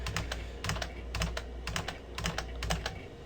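Typing on a computer keyboard produces quick bursts of clustered key clicks in an irregular rhythm, close and moderately loud, with no one speaking.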